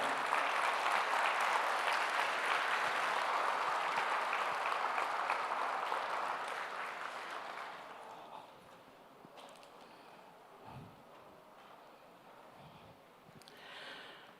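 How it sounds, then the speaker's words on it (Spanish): A church congregation applauds the Lord during a Sunday family service, broad sustained clapping for several seconds that fades away, leaving quiet room sound with faint shuffles. "Dele bien fuerte ese aplauso al Señor"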